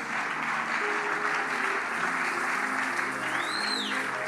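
Sustained applause from a church congregation fills the space, steady and dense throughout, with faint voices mixed into the crowd noise.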